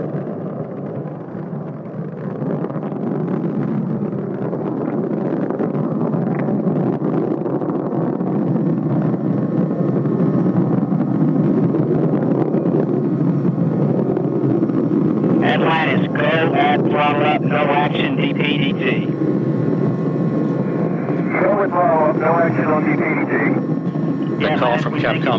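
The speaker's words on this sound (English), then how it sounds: "Engines now revving up," Space Shuttle Atlantis on its final STS-135 ascent, captured by the left forward solid rocket booster camera: a loud, unbroken rumbling roar with heavy wind rush, and brief radio-like voice bursts over it later on.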